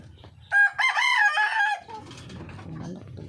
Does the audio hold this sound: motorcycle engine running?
no